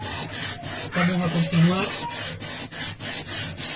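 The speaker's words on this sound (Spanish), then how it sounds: "continuamos con una lija 120, que es un grano un poco más delgado" Sandpaper, 120 grit, scrapes across an ordinary chondrite meteorite in a steady back-and-forth rhythm, close and gritty, while someone speaks briefly over the rubbing.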